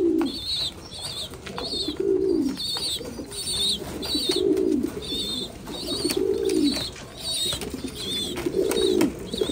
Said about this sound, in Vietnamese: chim bồ câu ra ràng mà thuộc cái bồ câu gà Mỹ này